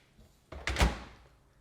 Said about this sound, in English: You can also leave the right door open and close the left door